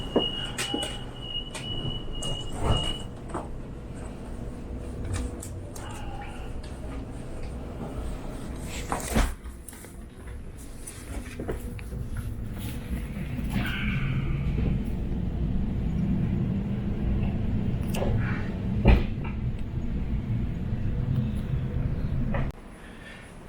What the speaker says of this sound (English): I've just come off the train at St. James